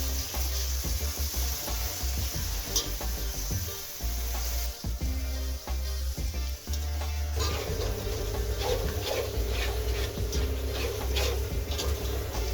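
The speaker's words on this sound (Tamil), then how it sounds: "இப்போ வந்து புதினா கொத்தமல்லி அரிஞ்சு வச்சுருக்குறேன் அதையும் போட்டுடலாம்" Chopped mint and coriander sauté with ginger-garlic in hot oil for Coimbatore seeraga samba chicken biryani, a steady close sizzle with intermittent stirring clicks and scrapes against the pan, no voices.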